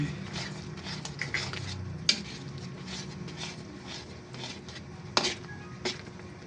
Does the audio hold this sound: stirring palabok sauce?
yes